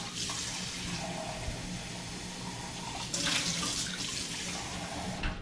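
Warm water runs from a kitchen tap in a home kitchen, a steady close hiss with brief louder surges as the stream changes.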